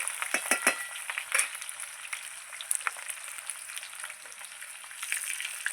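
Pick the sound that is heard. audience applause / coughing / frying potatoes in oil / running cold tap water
frying potatoes in oil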